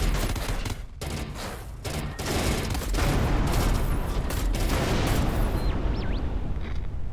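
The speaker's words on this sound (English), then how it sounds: "Okay, so turret ambush." Turret gunfire ambush in the space game Everspace 2: dense, continuous volleys of loud shots and blasts that keep firing without a break, with no talk over them.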